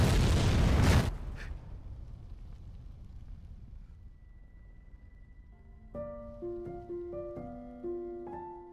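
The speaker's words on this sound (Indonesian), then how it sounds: "tiba-tiba mobil ambulannya meledak" An ambulance explodes in a film scene with a loud, close burst at the start that quickly fades into a low rumbling tail, followed by a tense musical score.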